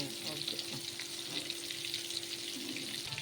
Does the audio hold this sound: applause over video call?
no